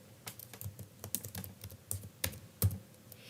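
Keys pressed on a computer keyboard, including a Control E shortcut, as a handful of quiet, close, irregular clicks.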